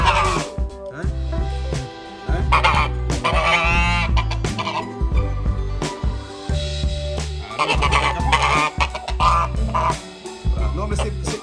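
Geese honk and cackle repeatedly outdoors, loud and close, mixed with clucking fowl and people talking nearby.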